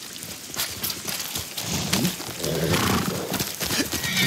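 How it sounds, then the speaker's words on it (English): A horse in the Ghost of Tsushima video game, with a neigh and scattered hoof clatter over a rain-like wash of outdoor noise, moderately loud and close. "Horse!"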